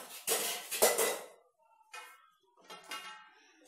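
A metal lid is set onto a pot of steamed hilsa fish: a couple of close clanks and scrapes of metal on metal, followed by softer rattles and clinks after short pauses.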